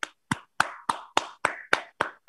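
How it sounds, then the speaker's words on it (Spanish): Children in a preschool class clap for a classmate in about eight separate sharp, evenly spaced bursts, each one ringing briefly before the next, close and fairly loud with no talking. "le damos aplauso a Yaret"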